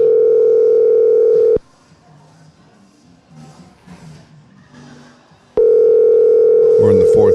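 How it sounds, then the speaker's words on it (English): An outgoing telephone call plays a ringing tone: a long steady electronic tone, then a gap where people talk over faint noise, then the tone starts again. "Does JD answer this phone"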